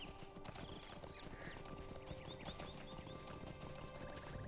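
Hooves of a regular riding mount clip-clop at a steady trot in the game LOTRO, with a brief whinny near the start, at a moderate level over faint game ambience.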